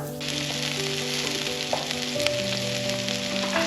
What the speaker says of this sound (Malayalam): ഇനി നമുക്ക് അതിലോട്ട് ബ്രോക്കോളി ഇട്ട് കൊടുക്കാം.